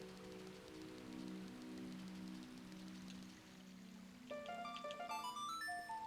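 Rain called down by a played song in the video game Ocarina of Time: a steady soft wash of falling rain under low sustained tones, followed by a bright rising run of chiming notes near the end.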